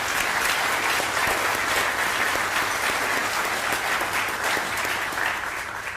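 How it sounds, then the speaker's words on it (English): Crowd at a Teacher of the Year ceremony gives a sustained round of applause for award nominees and finalists, full and even, tapering slightly at the end. "Please let's give them one more deserved round of applause"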